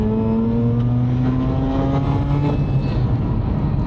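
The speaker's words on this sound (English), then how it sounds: "you get a lot of intake sound in RX-8s" A stock Mazda RX-8 rotary engine accelerates in second gear during spirited road driving, giving a loud, steady intake roar with rising whine tones heard from inside the car.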